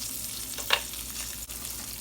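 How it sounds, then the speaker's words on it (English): Ravioli frying in a pan, a quiet steady sizzle with one brief louder crackle, close and without talk. "So we're actually frying these ravioli to cook them"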